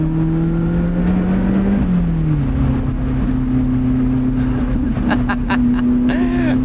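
A Lotus Elise accelerates out of corners on a bumpy road, a loud droning engine note climbing and dipping through gears, heard close from inside the car.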